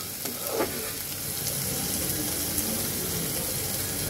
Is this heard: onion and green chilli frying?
yes